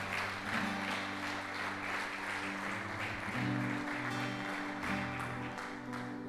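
A church congregation clapping during a sermon, dense continuous applause heard from within the hall, moderate in level, with a low sustained tone underneath throughout.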